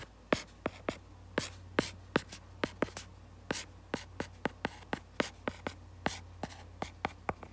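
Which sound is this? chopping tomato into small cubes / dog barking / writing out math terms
writing out math terms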